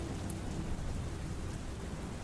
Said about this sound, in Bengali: যখন মুষলধারায় বৃষ্টি নামলো,